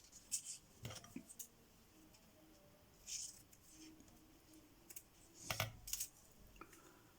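Scissors cut kraft paper for a handmade Christmas pouch in scattered short snips and crisp rustles, faint and close, with quiet pauses between cuts.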